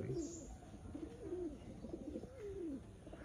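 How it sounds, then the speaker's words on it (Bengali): Chat pigeons, a famous Khulna breed, cooing softly outdoors in the morning, several rising and falling coos in a slow repeating pattern over faint background noise. "এটা হচ্ছে চট কবুতর, আমাদের খুলনার যে বিখ্যাত চট, সে চট কবুতরের বেবি।"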